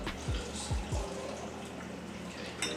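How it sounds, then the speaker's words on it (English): Canned corn slides and plops wetly into a pot of turkey chili, a few quick glugs at the start followed by soft sloshing. "Pouring in the corn."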